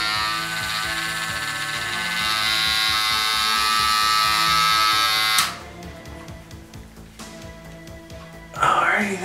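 Electric hair clippers buzz steadily while shaving hair off a head, a loud continuous hum that cuts off abruptly, leaving quieter handling noise before a brief rise.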